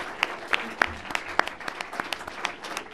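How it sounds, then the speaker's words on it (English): Audience at a democracy panel discussion applauding the panelists, a moderate burst of scattered hand claps with distinct individual slaps over a room-tone hiss, no voices. "Let's have a round of applause"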